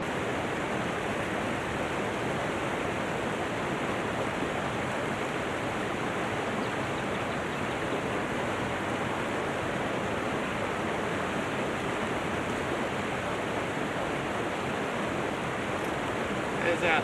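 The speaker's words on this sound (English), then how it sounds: "Let's pan this out and see what it yields." Water and gravel slosh in a gold pan during crevicing for gold, with garnets and a chunk of iron in the material, producing a steady, continuous rushing swish from start to finish.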